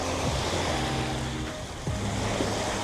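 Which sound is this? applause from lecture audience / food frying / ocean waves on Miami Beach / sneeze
ocean waves on Miami Beach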